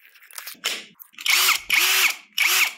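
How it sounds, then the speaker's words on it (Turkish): An Einhell TP-CD 18/80 Li-i brushless cordless drill runs at close range in several short bursts of whirring motor whine, each spinning up and winding down, with quieter handling noise between them. "O yüzden bir matkabın sesini duyabiliriz."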